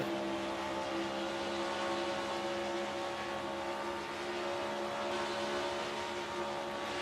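Race car in a racing game held near 9,000 RPM, a steady high buzzing engine drone with strong harmonics, loud and continuous with no talk.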